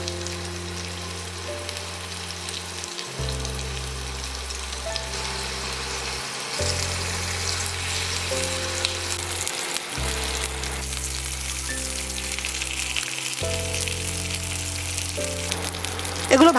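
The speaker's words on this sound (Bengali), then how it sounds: "কাবাবগুলোর প্রত্যেকটা সাইড 2 থেকে 3 মিনিট করে ভেজে নিতে হবে।" Chicken kebabs fry in two tablespoons of oil in a pan over medium-low heat, a continuous crackling sizzle running beneath steady background music.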